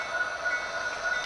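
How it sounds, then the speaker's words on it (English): A model railroad container train arrives at a miniature inland port, giving a steady, even whirring rumble with a thin high whine on top. There is no talking. "You can see our next train now arriving."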